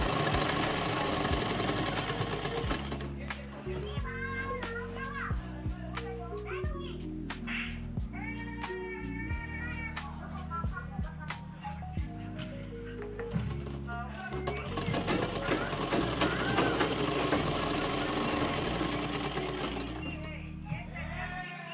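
A sewing machine hums and clatters continuously as it stitches a folded dress hem, running close and steady for a long stretch with small shifts in speed.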